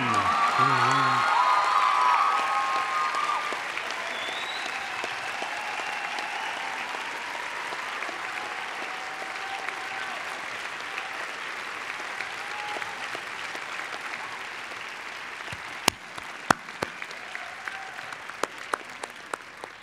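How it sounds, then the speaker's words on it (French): Audience applause at a 2018 university graduation ceremony for the Faculty of Human Sciences, honoring new bachelor's graduates: sustained dense clapping from a large crowd with a few faint whoops, tapering slightly, then scattered louder claps near the end. "Applaudissons chaleureusement les nouveaux diplômés des baccalauréats de la Faculté des sciences humaines."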